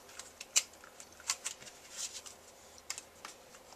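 Card corners are rounded with a quarter-inch corner chomper punch, giving a few faint, crisp clicks and snips spaced irregularly over a quiet background, close by.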